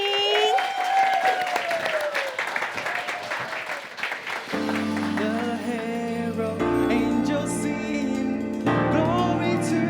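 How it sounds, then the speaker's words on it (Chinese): Applause rises from the congregation opening Yongguang Church's 2019 Christmas celebration, lively clapping with a few voices for about four seconds before held musical tones begin and take over. "现在开始，热烈掌声欢迎！"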